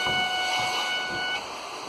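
Oil pressure alarm on a boat engine: a steady high electronic tone sounds close by over the engine's low rumble, then the level drops near the end.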